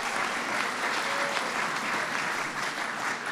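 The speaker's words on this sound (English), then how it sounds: "Give her a big round of applause." An audience at a St. Patrick's Day gathering at the White House breaks into steady, sustained applause, a dense wash of many hands clapping at a moderate distance with no talking.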